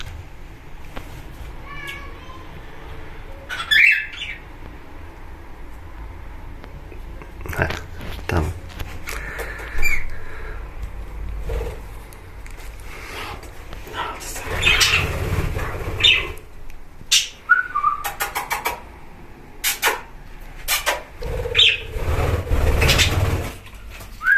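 Colourful pet parrots out of their cage, gathered near a cave-like perch, give scattered squawks and short chirps in bursts, some close and loud, over a rustling background.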